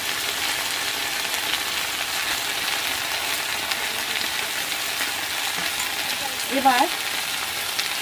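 Chopped tomatoes sizzling in oil for a Bengali-style chicken curry cooked outdoors at a picnic beside a pond, a steady close frying hiss with a brief stir near the end and a single spoken word.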